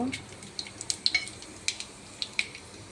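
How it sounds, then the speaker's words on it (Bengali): Two bay leaves and cumin seeds dropped into hot oil in a kadai, a soft sizzle with light spattering pops and a few clinks, fairly quiet, brief. "কড়াইতে তেল দিয়েছে, 2টো তেজপাতা দিলাম আর জিরে,"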